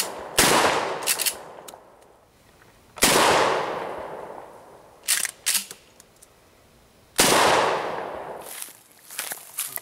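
Three loud 12 gauge shotgun blasts firing low recoil 00 buckshot, each sharp report followed by a decaying outdoor echo, spaced a few seconds apart, with smaller clicks and handling noises between shots.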